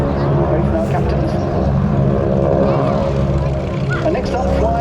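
A propeller aeroplane, one of the Tiger Nine display team's Tiger Moth biplanes, drones steadily overhead at the Duxford Air Festival 2018, a continuous loud engine hum under an announcer's commentary over loudspeakers.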